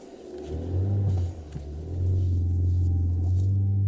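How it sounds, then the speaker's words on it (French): A car approaching along a road, its engine a loud, close, steady low rumble that dips briefly then swells again as it draws near. "Attention, une voiture arrive,"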